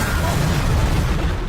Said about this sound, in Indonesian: mendengar ledakan itu